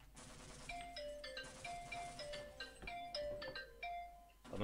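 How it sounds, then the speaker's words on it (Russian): An incoming call sets a phone ringing, a repeating electronic melody of clear tones that plays steadily over game noise and scattered clicks, with no voices. "кто-то потом звонит"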